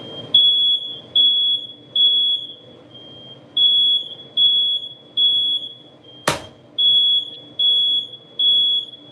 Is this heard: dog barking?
no